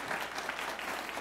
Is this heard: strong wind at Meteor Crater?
no